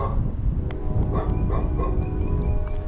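A dog barks a few times at a distance near a creek by a city tunnel, the sharp bursts half-buried in a steady low rumble of outdoor background noise.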